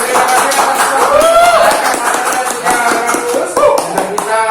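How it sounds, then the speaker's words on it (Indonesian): An audience applauding guest speakers at a talk-show event, dense continuous clapping close by with voices mixed in. "Tepuk tangan untuk narasumber sekali lagi."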